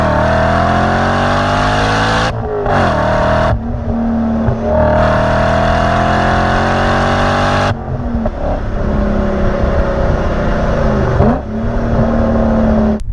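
A BMW E39 M5 engine runs loud and close, revving up repeatedly with rising and falling pitch, with brief cutoffs between pulls and a steady idle in between.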